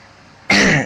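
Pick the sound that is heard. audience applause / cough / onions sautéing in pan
cough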